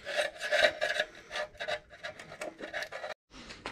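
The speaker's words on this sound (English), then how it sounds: "drill and a little wire wheel to clean up" A drill-driven small wire wheel scrubs the metal edges of a Subaru Forester part, giving close, uneven rasping bursts in quick pulses with a brief pause near the end.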